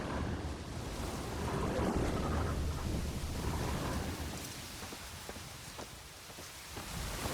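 Thunderstorm with steady heavy rain in The Witcher 3, a continuous dense wash of downpour with low rumbling thunder rolling beneath it, loud and close throughout with no talking.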